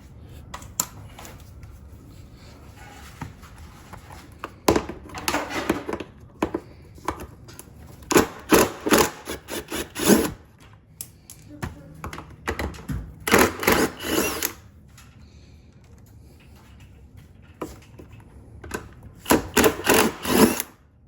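A power driver whirs in repeated short bursts, spinning Allen head bolts out of the rear fender of a 2024 25th Anniversary third-generation Suzuki during a fender eliminator install. Several close, loud runs are separated by brief pauses.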